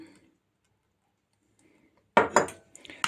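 A spoon stirs a pumpkin and honey mixture in a bowl, giving a few close, sharp clinks and scrapes in a short burst after a quiet stretch.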